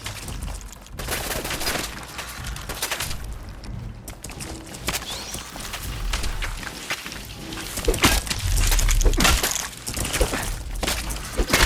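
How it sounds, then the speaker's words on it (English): Gunfire crackles through a Fallout 4 firefight in rapid bursts and single sharp shots, loud and close, with brief lulls between volleys. "We are being shot at."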